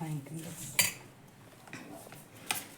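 French fries are tossed with spices in a bowl, making light clinks and scrapes of utensil against dish. Two sharper knocks stand out over a soft, steady background, with faint talk now and then.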